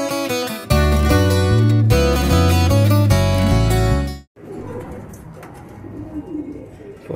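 Racing pigeons returning to the loft, soft low cooing nearby, rising after a loud stretch of music cuts off, with no talking.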